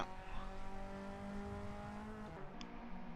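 Twin Cup race cars start the second race at the Nogaro circuit, a blend of whining engines in a continuous roar at a distance. One tone shifts and drops near the end.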